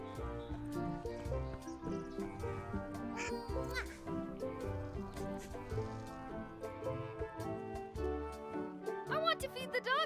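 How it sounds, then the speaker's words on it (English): Duck quacks from the video game Return to Monkey Island, repeated over a steady bed of game music, fairly close and clear. "I want to feed the duck."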